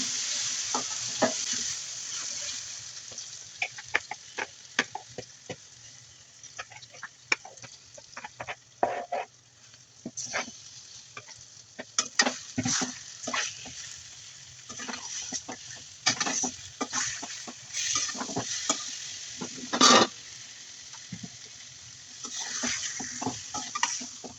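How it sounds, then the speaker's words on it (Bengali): Marinated meat frying in hot oil, a steady sizzle broken by repeated scraping and clanking stir strokes at an irregular rhythm, close and fairly loud, with no talking. "এরপর আমরা যে মাংসটি মাখিয়ে রেখে দিয়েছিলাম এবার এই গরম তেলের ভিতরে দিয়ে এটাকে ভালোভাবে ভেজে নেব।"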